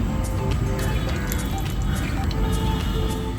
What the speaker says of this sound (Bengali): কড়াই গরম হয়ে গেছে তেল দিয়ে দিচ্ছি